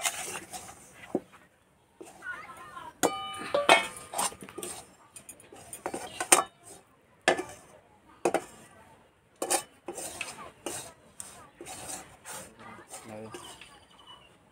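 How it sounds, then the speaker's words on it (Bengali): A spoon clinks and scrapes against a pan as a sweet manohara mixture is stirred, with irregular close taps and scrapes, some louder knocks, and short pauses throughout. "ভালো করে একসঙ্গে নেড়ে নিতে হবে।"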